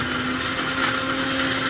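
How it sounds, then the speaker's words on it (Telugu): Kitchen mixer grinder running on curry leaves, tamarind and salt, a continuous loud electric whirring drone with a steady motor hum, no pauses and no talking. "చిన్న నిమ్మకాయంత చింతపండు, 1 స్పూను సాల్ట్ వేసి దీన్ని మిక్సీ చేసుకోవాలి"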